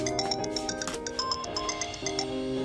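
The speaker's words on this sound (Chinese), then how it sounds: "你姐打电话，你为什么不接呀？" An incoming call sets a phone ringtone going in a domestic drama scene: a bright, repeating electronic melody that plays continuously and fairly close, with no talking over it.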